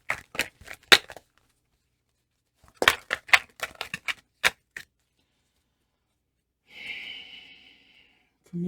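Tarot cards are shuffled close and quietly in two quick bursts of crisp, snapping riffles separated by silence, followed by a brief soft hiss.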